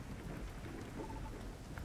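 Steady pouring rain ambience for a tabletop game session, a faint, even hiss with no distinct drops or voices standing out.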